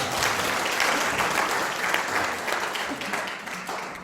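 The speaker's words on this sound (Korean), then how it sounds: "이 부활하신 주님을 우리 함께 박수로 환영하겠습니다." A church congregation at a Korean Easter Sunday service in Namyangju claps together in a full, continuous wash of applause that holds steady throughout, with no speech over it.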